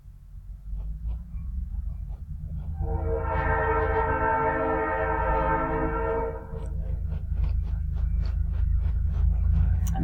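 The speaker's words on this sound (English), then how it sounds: "The train's just starting up again." A train horn sounds a long, loud blast beside the track for several seconds, over the low rumble of a train starting up and rolling close by, with clanking wagon noise continuing after the horn stops.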